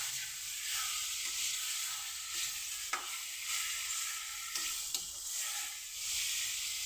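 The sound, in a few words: pork liver sizzling while frying in a pan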